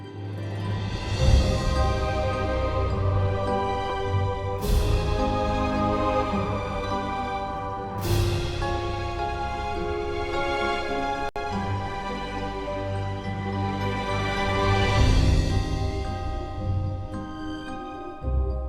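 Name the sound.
orchestral woodwind run, timpani and cymbals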